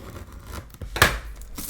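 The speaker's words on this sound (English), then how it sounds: "I am just going to slice into this with some scissors" A few scissor cuts snip through the thick cardboard tabs of a drone's box, with one sharper, louder slice in the middle and softer crunches around it, close by.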